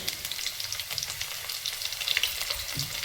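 Garlic and mustard seeds fry in hot oil in a pan for a curry of ridge gourd and chana dal, giving a steady close crackling sizzle with light stirring and no talk.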